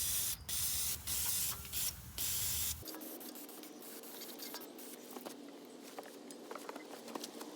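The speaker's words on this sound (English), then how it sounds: "I'm just going to spray the outside of this valve cover off first to get some of that loose dirt" Bursts of loud pressurized spraying hiss in short repeated blasts at the valve cover of a Kawasaki FX850V mower engine, followed by quieter scraping and rubbing noises.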